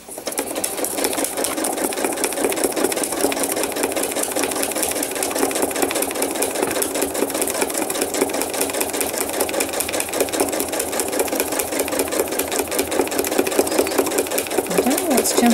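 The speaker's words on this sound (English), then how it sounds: "These little tiny lines like spider veins, they need to be stitched if I can." A sewing machine stitches thread art from a photo, running in a steady, loud, continuous buzz with rapid needle ticking throughout, no pauses.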